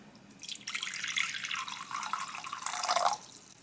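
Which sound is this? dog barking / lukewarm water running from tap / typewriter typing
lukewarm water running from tap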